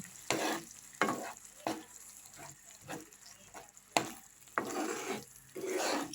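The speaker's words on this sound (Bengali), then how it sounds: "বাটা যে পালং শাকটা মানে মিক্সিতে পেস্ট করেছিলাম সেটাকে আমি এর সাথে মিশিয়ে দিলাম" Ground spinach and green chilli paste being stirred into frying masala for palak paneer, with steady sizzling broken by repeated scraping strokes at a loose rhythm. Nobody speaks.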